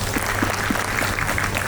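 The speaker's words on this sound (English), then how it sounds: "So please clap" Brief burst of audience applause in a conference hall during a keynote address, a dense steady patter of many hands clapping at once.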